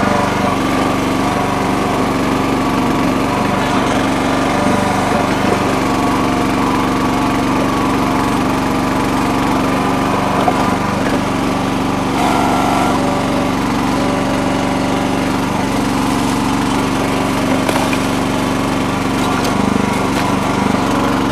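A Red Rock mini backhoe's small engine runs steadily while the machine digs a drainage ditch, a loud, constant buzzing drone with slight load fluctuations and no pauses, heard close up with no speech.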